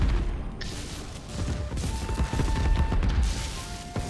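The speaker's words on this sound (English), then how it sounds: "I just gotta wait for the explosions to not be trying to take me out." Rumbling bursts and crackling blasts from repeated explosions in the video game Divinity Original Sin 2, layered with faint tonal effects and steady low booms across the whole stretch.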